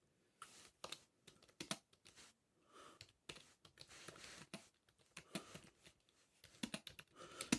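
Typing on a thrift store chiclet keyboard: quick, light, close clicking keystrokes in irregular bursts with short pauses between them, with no voices.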